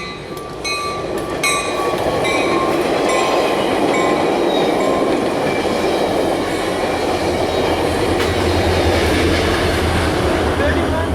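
Train 3110 pulls out of a station toward Stockton with a loud, continuous rumble, rolling wheel noise and a few metallic squeals near the start. The sound stays close and steady throughout.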